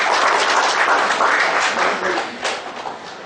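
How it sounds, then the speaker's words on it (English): A seated audience at a professional seminar gives a round of applause. The clapping is brisk and continuous, then thins slightly toward the end. "Huge round of applause once again, ladies and gentlemen."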